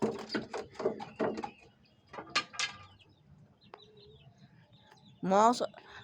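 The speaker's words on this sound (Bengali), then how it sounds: "চলো চলো মুরগি চলো।" Chickens on a farm being herded along, with short chirps and brief calls scattered through a quiet background and a louder squawk near the end.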